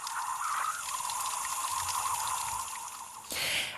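Water running at an outdoor ice park at night, a steady rushing, splashing flow close by with a louder gush near the end.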